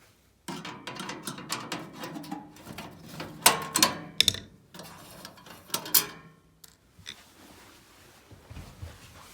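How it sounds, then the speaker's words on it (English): A screwdriver works out screws from the front of a Baxi Baroque gas fire with a precast flue, giving a quick series of close metallic clicks and ticks that taper into quieter scraping. "So we'll take these screws out."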